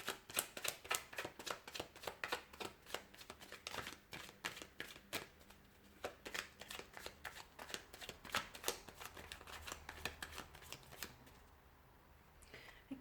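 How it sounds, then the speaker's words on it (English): Tarot cards are shuffled repeatedly, a rapid run of crisp riffling snaps up close, slowing and fading out near the end. "I'll go ahead and give the cards a shuffle here"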